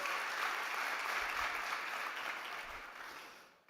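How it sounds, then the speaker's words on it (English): Audience applause after a startup pitch competition on a summit stage, a dense, sustained wash of clapping from a large crowd that thins out and fades near the end. "Can we have a big round of applause, please, for Alfredo Montilla?"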